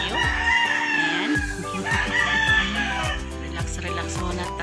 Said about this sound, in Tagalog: Relax muna tayo with the sound of tilaok.